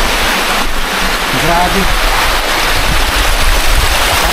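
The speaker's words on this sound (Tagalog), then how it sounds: "Subalit napakalakas ng tubig dito." Strong rushing water roars as a steady, loud broadband wash with no pauses, and a voice exclaims briefly over it.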